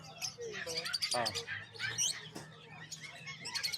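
A yellow-faced pet bird at a pet market gives rapid, high chirps and short trills in quick bursts, close by, with faint market background.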